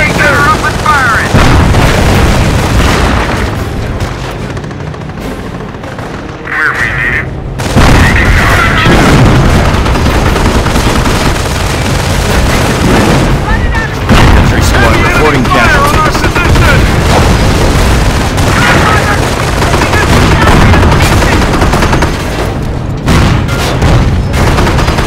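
Battle in Company of Heroes during the Normandy invasion, with steady gunfire and heavy booming explosions throughout, loud and dense, while soldiers shout orders over the din.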